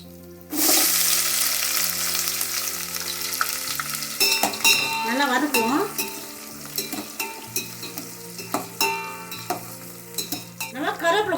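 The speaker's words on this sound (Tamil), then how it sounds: "தோல் பூண்டை தட்டி வச்சிருக்கேன் அதை போட்டுக்கிறேன் காஞ்ச மிளகா ஒரு நாலுலேருந்து அஞ்சு போட்டுருக்கேன் சின்ன வெங்காயம்" Crushed garlic, dried red chilies and small shallots drop into hot oil for mixed vegetable sambar, bursting into a loud sizzle, then ladle stirring adds repeated clinks and scrapes over a low steady hum.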